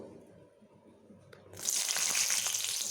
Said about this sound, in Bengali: সেই কাঁচা লঙ্কাগুলোকে আমি এখানে ফোড়ন দিয়ে দেব